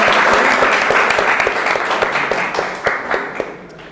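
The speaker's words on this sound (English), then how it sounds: "Please give a round of applause for Ritu." An audience at a literary festival gives a sustained round of applause, dense steady clapping from many hands filling the room with no speech over it.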